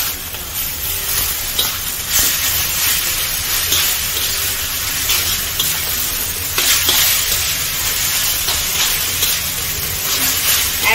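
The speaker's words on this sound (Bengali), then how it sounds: "নুডলসটা সেদ্ধ করে রেখেছিলাম এটা ঢেলে দিচ্ছি" Boiled noodles tipped into a hot pan for Chinese-style noodles, a loud, continuous hiss of steam and sizzle with clattering stirring bursts throughout.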